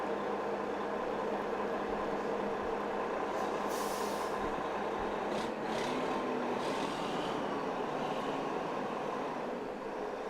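A large truck with air brakes sits parked close by at a Townsville Anzac Day city parade, its engine rumbling in a steady, loud drone with short hissing bursts of air breaking through, and no talking.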